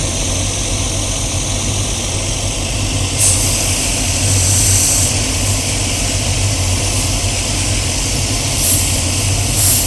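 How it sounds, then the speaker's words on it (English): A shop machine sands down the sole of a shoe or boot with a loud, steady motor drone. Brief bursts of harsher, hissing grinding come at intervals as the sole is pressed against it. "And then we need to machine that down."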